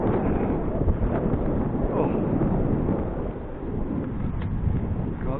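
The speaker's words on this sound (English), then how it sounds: "It's a cold wind and it is quite windy." A cold, gusty wind roars steadily against the microphone while riding a bike along a canal path. A brief voice exclamation is heard.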